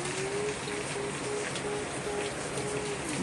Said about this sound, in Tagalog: Kaso naabutan ng ulan.